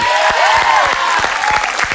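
A studio audience claps steadily and energetically on a TV game show, a dense wash of applause with a few louder hand claps standing out nearby.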